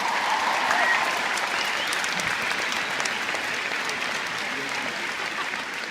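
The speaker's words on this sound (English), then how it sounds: "Give yourselves a round of applause for that." An audience at an Oprah event breaks into sustained applause, a dense roar of clapping that holds loud and steady throughout.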